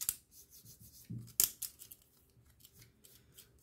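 Scissors snipping through scrapbooking paper nearby, a few quiet sharp cuts with a louder snip midway and soft rustling of paper between, no voices.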